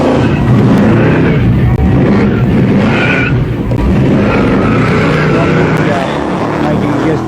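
A supercharged, alcohol-burning 8.2-litre Chevy V8 Commodore making about 700 horsepower does a burnout: a loud, sustained engine roar with tyre noise that fills the whole stretch, with a voice talking over it.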